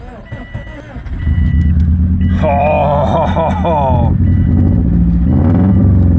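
A turbocharged Subaru Impreza engine cranks and fires up, settling into a loud, rough idle with a rising whine partway through; a voice exclaims briefly over it.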